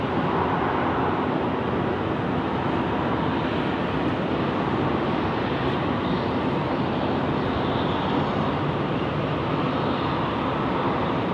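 A jet airliner takes off from runway 16 right at Sydney Airport, its engines a loud, steady roar that stays constant and fairly close throughout, with no speech over it.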